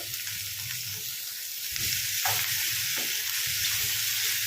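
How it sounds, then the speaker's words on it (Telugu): Cleaned, cut goat tripe drops into hot oil for a village-style curry, and the frying swells into a steady, fairly quiet sizzle with soft stirring scrapes. "ఇప్పుడు క్లీన్ చేసి కట్ చేసిన బోటి వేసుకుందాం ఇందులో."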